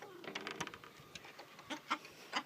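Hens on a homestead cluck in short, separate bursts near a nest box where one is laying, with a few louder clucks standing out from the quieter ones.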